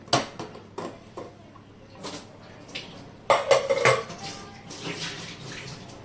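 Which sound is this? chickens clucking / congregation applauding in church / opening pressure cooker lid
opening pressure cooker lid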